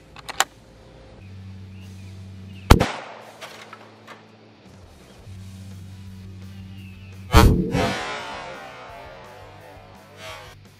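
A .308 Winchester rifle fires Super X 150-grain rounds into a cinder block outdoors. Two sharp, loud cracks, several seconds apart, each trail off into scattering debris over a low, steady background hum.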